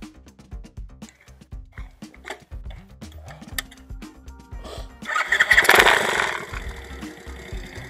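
A Dax motorcycle, freshly serviced with new oil, a rebuilt carburettor and a stainless exhaust, cranks and fires, then settles into a steady, uneven putter at idle that swells louder for a moment before easing back.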